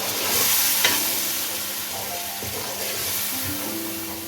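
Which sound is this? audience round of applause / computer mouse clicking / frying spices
frying spices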